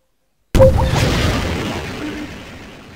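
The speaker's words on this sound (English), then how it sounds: "Guided missile." A guided missile exploding in Garry's Mod: after a brief silence, a single sudden, loud, close blast, followed by a long rumbling tail that slowly fades.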